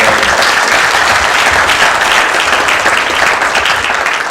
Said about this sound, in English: a big applause for